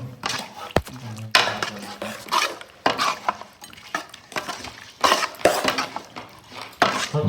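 Chicken curry stirred in a pan in a bachelors' kitchen in Bangalore, with a spoon scraping and clinking against the metal in irregular bursts and a soft sizzle underneath, and a voice speaking now and then.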